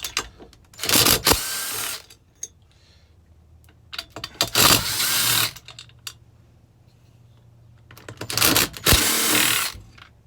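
A power driver whirs in three short bursts, each lasting about a second, while removing cylinder bolts on a Stihl MS261 chainsaw during a teardown. Quiet pauses with faint handling noises come between the bursts.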